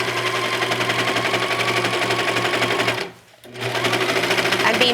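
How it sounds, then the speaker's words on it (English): A 4-thread overlock serger runs steadily, stitching along leggings fabric beside the elastic, with a constant close mechanical whir and rapid needle rhythm that briefly cuts out for a pause near the end before resuming. "I'm serging right next to it."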